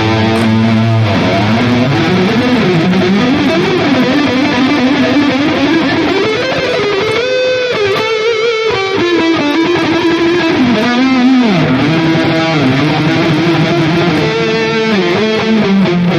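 Ibanez RG 320 scalloped-neck electric guitar played through a Nux MG-30 multi-effects unit, a continuous loud distorted lead line with bends and fast runs, sustained notes and delay tails, close and alone without talk.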